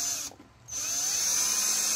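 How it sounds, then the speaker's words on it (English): An electric drill bit bores into 1mm steel on a jukebox, a loud high-pitched whine that briefly drops out as the motor stops, then restarts and holds steady. "I'm taking a drill bit that is a fraction of a size smaller than the screws"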